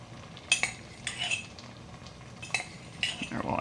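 A regular soup spoon clinks and scrapes against a pot while scooping chili powder into vegetarian chili, giving several sharp metallic taps spread across a few seconds, close up with no talking.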